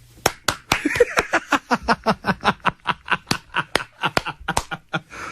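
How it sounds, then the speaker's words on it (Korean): Audience applause in a studio setting, heard as a steady, evenly spaced run of claps at about four to five per second, fairly close and clear for several seconds with no talking. "박수 부탁드립니다"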